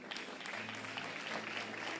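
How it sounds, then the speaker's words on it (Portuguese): A church congregation claps together in a steady, dense burst of applause, moderately loud and sustained with a faint low hum underneath. "Você não vai aplaudir a Deus"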